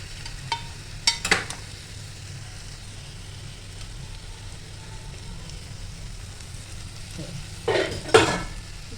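A steady low sizzle from mashed pav bhaji vegetables in a hot pan, broken by a few sharp clanks and scrapes of a spoon stirring against the metal near the start and end.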